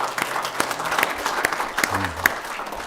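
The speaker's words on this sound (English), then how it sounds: "That's worth a clap." Scattered applause at a town council meeting: a few people clap in short, uneven bursts for under three seconds, moderately near, with faint murmuring.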